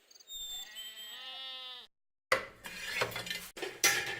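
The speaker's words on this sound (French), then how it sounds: "J'aime beaucoup mes chèvres." A goat on a small cheese-making farm gives a clear wavering bleat, followed after a brief silence by clattering dishes and pots nearby.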